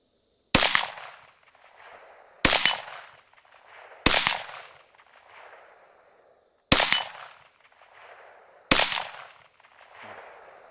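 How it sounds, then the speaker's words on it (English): Five separate .22 Magnum shots from a Rossi RS22M rifle, each a sharp crack followed by a ringing clang from the steel target, spaced about two seconds apart with quiet gaps between them. "Alright, let's shoot some steel."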